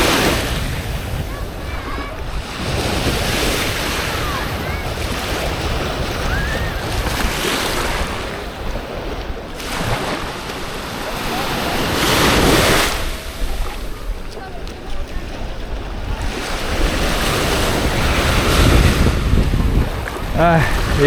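Beach waves and water at Praia da Daniela in Florianópolis, with surf rolling in and washing out in long swells and steady wind buffeting the microphone.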